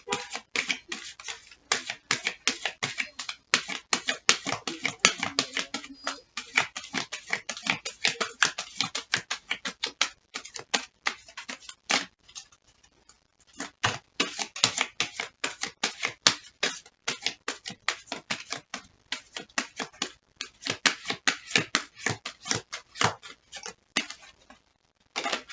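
Tarot cards are shuffled and handled up close, a dense run of quick crisp taps, flicks and snaps in irregular bursts with brief pauses between.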